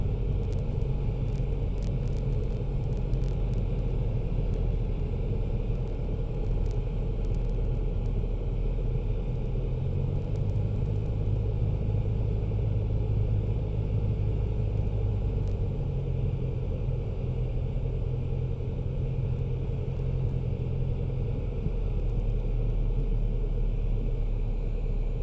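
A Piper Warrior light aircraft's engine drones during a touch-and-go takeoff, heard as a steady, loud cockpit rumble with a shifting low hum and no pauses.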